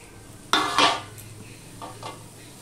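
Cut eggplant pieces go into a pan, two quick clattering stir scrapes of a spoon against the pan up close, then a couple of fainter scrapes over a quiet background.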